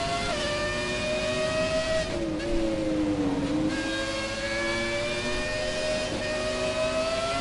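Engines of classic race cars in the racing game F1 2017, a steady close engine note that dips and climbs again as the car brakes and accelerates, sustained throughout with no talking.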